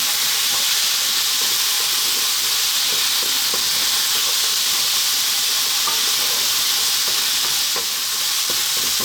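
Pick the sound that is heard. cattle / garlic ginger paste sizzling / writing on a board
garlic ginger paste sizzling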